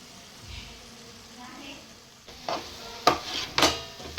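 Ground sesame powder being stirred into a coconut sweet mixture in a pan; quiet at first, then a few distinct scraping strokes and knocks of the spoon near the end, with faint soft sizzling.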